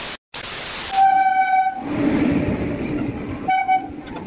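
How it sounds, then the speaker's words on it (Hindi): Passenger train arriving at an Indian railway station, heard as a loud horn blast followed by rolling rumble and a second horn toot near the end, close and alone with no talking. "इतने लंबे इंतजार के बाद, करीबन एक दिन इंतजार किया, और उसके बाद ये ट्रेन आ गई है।"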